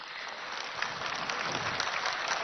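Audience applause from a crowd at a public gathering, steady dense clapping that holds at an even level throughout without a break.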